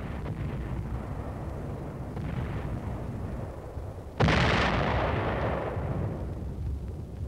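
World War II artillery bombardment pounding Japanese defensive positions: a steady rumbling roar, then a loud, sudden blast that swells into a sustained, heavy thunder and slowly eases off.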